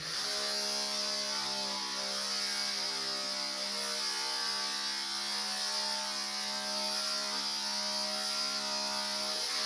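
Electric clippers buzz steadily and close up as they trim the throat of a working cocker spaniel, a constant motorized hum with no talking over it.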